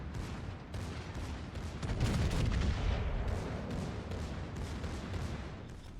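Secondary battery guns of the battleship Bismarck in World of Warships fire in a dense, continuous barrage of overlapping booms and cracks, swelling louder midway and rolling on steadily without any voices.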